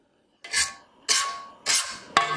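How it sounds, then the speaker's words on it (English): A spatula scrapes down the sides of a stand mixer bowl of oatmeal cookie dough in four distinct, close rasping strokes, the last one sharper, with no talk. "we'll stop that to scrape down the sides"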